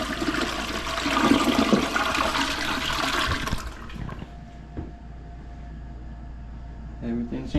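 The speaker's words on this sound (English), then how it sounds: "and now we gotta flush it" A toilet flushes right after its tank is reinstalled and the water turned back on, a loud rushing gush for several seconds, then quieter refilling trickle as the bowl settles.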